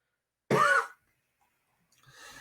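A single short throat-clearing cough bursts out close and loud, followed by a faint breathy sound after a brief silence.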